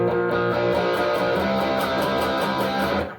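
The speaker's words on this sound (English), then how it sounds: "8 times, move it up a whole step 8 times." Distorted electric guitar repeats a rapid figure eight times, then a whole step higher eight times, in a steady build-up, loud and upfront with no talking.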